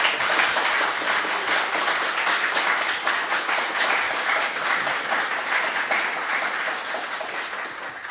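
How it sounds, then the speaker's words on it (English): An audience at a MediaWiki users and developers conference gives a sustained round of applause, dense and even clapping that continues throughout and eases slightly toward the end. "I want to highlight you 3, each individually, with a round of applause"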